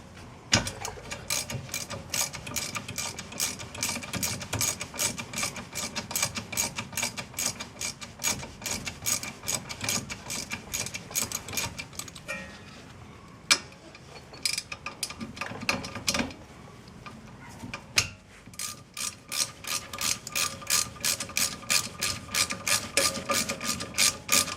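A ratchet fitted with a 7mm Allen bit working Allen-head rear brake bolts on a 2014 Ford Escape, rapid repeated clicking in long bursts with brief pauses, close and clear, no voices.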